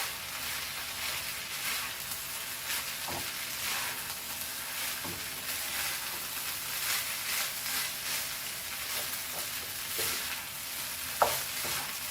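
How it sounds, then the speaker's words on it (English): Beef fried rice stir-frying in a wok makes a quiet, steady sizzling hiss with occasional faint scrapes and a single sharper clink near the end, heard up close with no talking. "try to have a bigger wok. So you can fry it nicely and properly."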